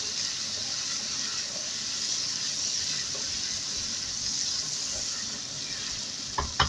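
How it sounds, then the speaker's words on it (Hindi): Whole garam masala spices frying with softened onions in a pan give a steady, close hiss of sizzling oil throughout, with a couple of light clatters near the end. "तमाम ही गरम मसालों को हम भून लेंगे प्याज के साथ।"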